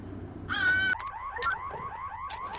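Crows caw in the Hello Neighbor game world: one long harsh call followed by a rhythmic series of short repeated caws, moderately loud over a low background hum with no talking.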